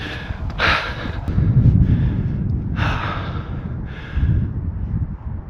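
Heavy, ragged panting from someone climbing a hill near Mam Tor in the Peak District, loud gasping breaths close to the microphone with light wind noise.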